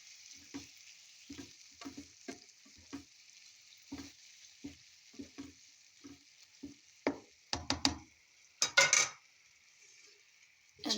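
Fried eggplant pieces drop into a hot pan one after another, each landing with a short sizzling hiss over a steady low crackle of frying oil, then a few louder clattering bursts as the pan is worked.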